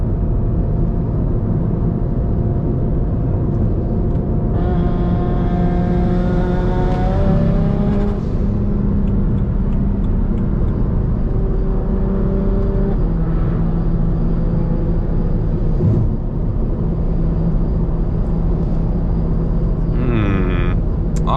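A tuned car engine running an anti-lag test revs hard, its pitch climbing in stepped harmonics before cutting out and stuttering at a 29 PSI boost cut, loud and close with a steady rumble throughout.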